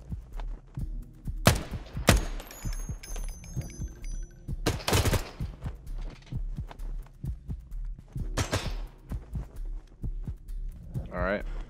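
Gunshots ring out in the tactical shooter Ground Branch: a few sharp, loud bursts spaced seconds apart, with players talking in between.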